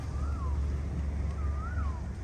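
Wind blows steadily outdoors in a simple rural garden at dusk, a constant low rumbling rush with two brief rising-and-falling bird-like whistles over it.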